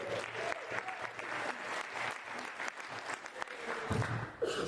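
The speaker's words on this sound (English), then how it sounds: "Round of applause, please, tonight." An audience at a startup panel event claps, a steady, moderately loud wash of applause from a crowd in a room, running for several seconds with no speech over it.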